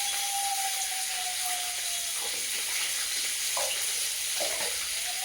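Five-spice and dry red chillies fry in hot oil in a wok, giving a steady bright sizzle with a few scraping stirs and no talking.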